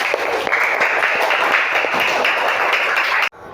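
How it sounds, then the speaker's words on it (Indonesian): A classroom of students gives a burst of applause for their classmates, dense steady clapping filling about three seconds before cutting off abruptly. "Buat tepuk tangan buat teman-teman kalian."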